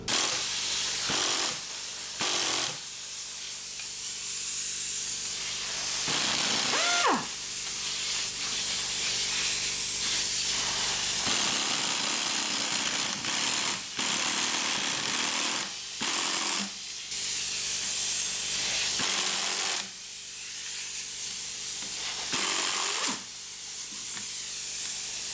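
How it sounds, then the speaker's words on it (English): Spring compressors being undone on a Toyota Highlander front strut, heard as a steady broadband hiss-like tool noise with short pauses and a few sharp metallic clicks, close and loud with no talking. "now we're gonna undo the spring compressors"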